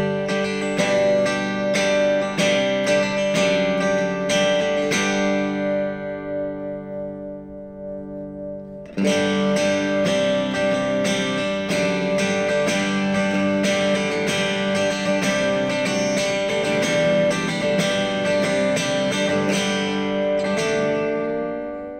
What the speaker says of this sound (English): let's look at the clean tone from clean to clipping clean, if we push that gain.